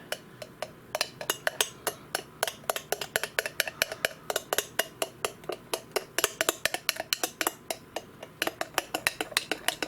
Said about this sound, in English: you're going to want to sit there and mix this up really good